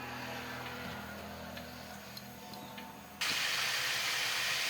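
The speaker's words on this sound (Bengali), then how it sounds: "তো দেখো প্রেসার সিটি দিয়ে দিয়েছে, ডাল হয়ে গেছে" Pressure cooker whistle on a home stove cooking dal, a sudden loud broad steam hiss bursting in after a quieter stretch of kitchen hum and faint clicks, continuing steadily to the end.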